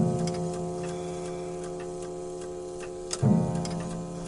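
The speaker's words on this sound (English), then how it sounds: "The handsome banjo clock over the fireplace was ticking away busily" A handsome banjo clock hanging over a cottage fireplace ticks steadily and busily, close and clear over a faint background hum, with a brief knock near the end.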